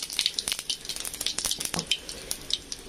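Whole cumin seeds frying in hot mustard oil in a home kitchen, giving a busy crackle of close popping and sizzling with sharp bursts throughout, and no talk over it.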